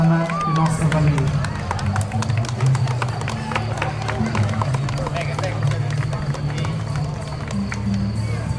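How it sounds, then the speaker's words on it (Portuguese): A crowd claps and cheers at a traditional celebration on Terceira Island as a first lady and her gentleman are presented, a dense patter of hands mixed with crowd murmur under a steady low hum. "Pedimos mais um grande aplauso para a primeira dama e o nosso cavalheiro"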